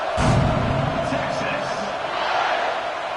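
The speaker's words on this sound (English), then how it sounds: "this crowd is feeling themselves after that last drive" Football stadium crowd at a kickoff, a broad, loud rumble of cheering that swells early, then holds steady under a commentator's voice.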